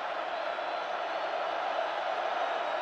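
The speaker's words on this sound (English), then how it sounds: "This crowd absolutely alive." A football stadium crowd roars steadily throughout a 2005 college game between USC and Fresno State, a dense, sustained wall of distant cheering with no break.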